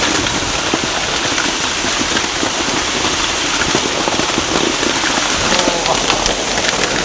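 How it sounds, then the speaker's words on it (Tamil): Hail pours into a shop in Bangalore, a dense, loud, unbroken clatter of ice pellets striking surfaces that keeps going without pause for the whole stretch. "ஐஸ் மழை கடைக்குள்ளே வருது பாருங்களா"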